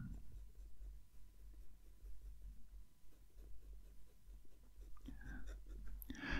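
Broad-nib fountain pen scratching across paper, a soft continuous scraping texture heard close and quiet, with a few louder strokes near the end.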